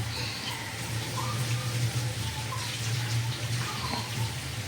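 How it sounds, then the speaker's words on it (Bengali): Water is poured into a simmering tilapia fish curry in a cooking pot, a steady rushing, splashing stream that runs unbroken and close at hand. "আর জলটা অবশ্যই বন্ধুরা তোমরা একটু বুঝে দিবে"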